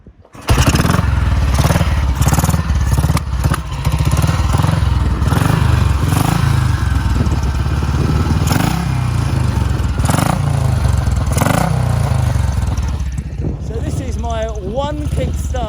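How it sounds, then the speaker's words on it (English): A BSA DBD34 Gold Star single-cylinder motorcycle catches on the kick-start and settles into a loud, steady thumping idle close by, with a rough blipping rhythm that carries on throughout. "one kick-starting Gold Star, more than the sum of its parts"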